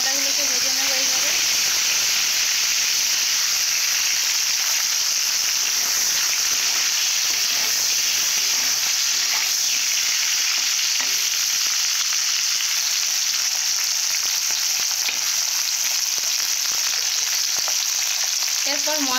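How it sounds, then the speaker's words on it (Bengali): Chopped tomatoes frying in a pan, a loud, continuous hissing sizzle that holds steady throughout, with faint stirring scrapes and occasional low voices underneath. "টমেটোগুলোকে ভেজে নেব এইভাবে"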